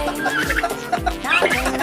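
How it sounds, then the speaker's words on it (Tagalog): Tame backyard chickens cluck nearby, several short, clear clucks and squawks following each other closely in a brief burst. "Ayan, maamot ang mga manok ko dito, oh."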